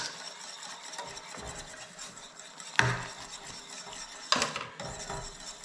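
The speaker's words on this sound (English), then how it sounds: "I'm gonna put it in now, and then you stir it with a whisk." A whisk stirs pap in a pot, giving a soft, steady scraping swish with two sharper clinks against the metal, close by and with no talking.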